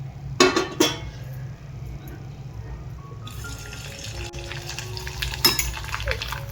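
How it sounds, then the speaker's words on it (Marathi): Sabudana and potato vadas deep frying in hot oil, a steady bubbling hiss running throughout, with a couple of louder clattering knocks near the start and a brief rattle later. "असंच आपण दुसरे पण वडे तळून घेऊया."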